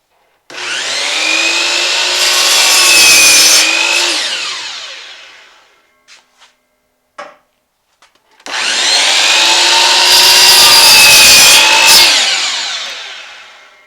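A power saw cuts wooden stair trim to length inside a school bus conversion. Two loud, sustained cuts are separated by a quiet gap with a few small clicks and knocks.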